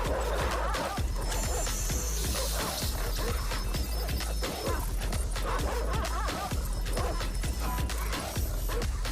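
Dogs barking and yelping in a video game trailer, with repeated sharp barks over a loud, dense soundtrack of crashes and action effects that runs throughout.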